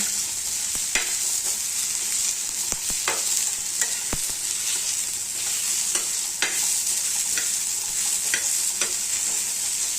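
Onion and spices fry in a pan with a loud, steady close sizzle, broken by sharp scraping taps of a spatula stirring at irregular intervals, with no voices.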